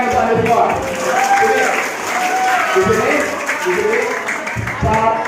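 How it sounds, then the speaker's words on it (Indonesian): Students at a vocational school assembly clap together, a dense, continuous burst of applause from a large crowd, loud and close, with a voice speaking over it. "tepuk tangan sana semua"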